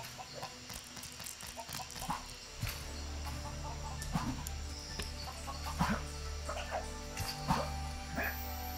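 Chickens cluck and squawk in short bursts over a steady electronic hum, with occasional voices talking underneath, in the video game LEGO Worlds.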